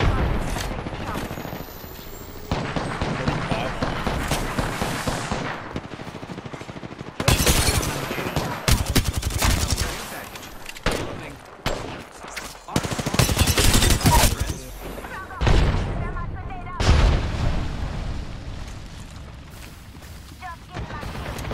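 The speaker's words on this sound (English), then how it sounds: "Opening fire on the enemy." Gunfire at the enemy in a video game: bursts of rapid automatic shots and heavy booms come in repeated loud volleys, close up, with gaps between them.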